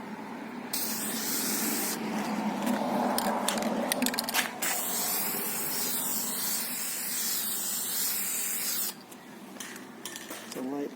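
Aerosol clear coat sprayed onto a car headlight, bursts of loud close hissing spray separated by brief pauses, with a short final burst near the end.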